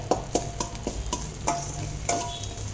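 A spatula stirs egg bhurji in a pan over a low flame, producing a series of light metallic scrapes and ticks at an uneven pace over a soft sizzle and a low background hum.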